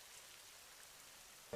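Light, steady rain falls softly outdoors as a faint, even hiss throughout, with a brief louder sound cutting in at the very end.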